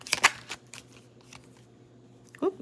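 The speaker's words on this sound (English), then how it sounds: "I do sometimes shuffle like this, where I kind of just see what is going to pop out" Oracle card deck being shuffled by hand: a few quick papery riffles and slaps at the start, then softer scattered card rustles over a quiet hum, close and faint.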